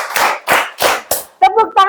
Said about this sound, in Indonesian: Oke, tepuk tangan 5 kali.